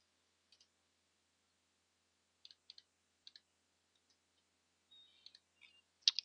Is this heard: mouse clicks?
yes